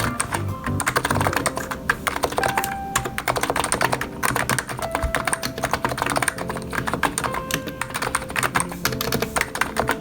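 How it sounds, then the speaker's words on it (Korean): Continuous fast typing on a Topre-style non-contact electrostatic capacitive keyboard at a home desk, a dense stream of close, soft, muted key strokes with no pauses and no voices. "무접점 키보드입니다."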